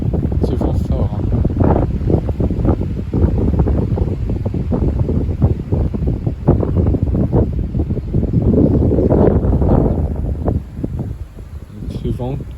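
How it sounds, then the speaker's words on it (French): Strong gusting wind roars against the microphone outdoors under cumulus clouds, loud and continuous, with someone talking over it throughout. "On a encore ce vent fort, hein."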